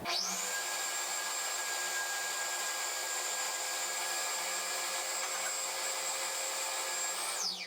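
An electric mixer beats chocolate cake batter as oil is drizzled in, giving one continuous, loud motor whine with a steady high pitch that runs unbroken for about seven seconds before cutting off, alone without speech.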